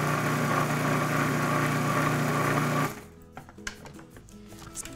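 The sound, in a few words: food processor blending pumpkin pie crust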